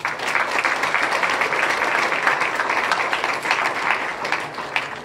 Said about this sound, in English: I think we should give her a big round of applause